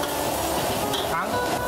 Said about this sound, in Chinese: 一起大火爆炒